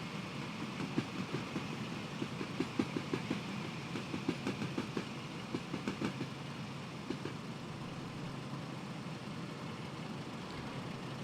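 An electric passenger train pulls away from a platform in the Train Sim World video game on the Blackpool branch toward London Euston, a steady low rumble with faint, rhythmic wheel clicks building underneath.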